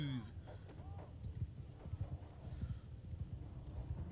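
Horses galloping in a battle scene, a busy clip-clop of hooves with faint neighing, heard at moderate distance under a steady rumbling background for about four seconds.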